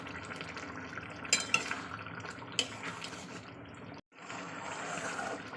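Katla fish pieces go into a cooking pan, with a few soft drops and splashes around the first and third seconds over a steady frying hiss. A brief gap near the four-second mark, then the hiss continues without talk.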